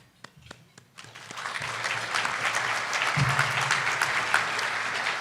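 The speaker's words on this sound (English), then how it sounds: "I told you to hold your applause and then I led you in applause." An audience at an economic outlook event breaks into applause that swells from a few scattered claps into steady, full clapping lasting several seconds.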